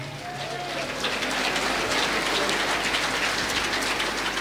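A church congregation applauds during a Spanish-language service, a dense, loud wash of clapping that sounds close and continuous for several seconds. A voice briefly rises at the start.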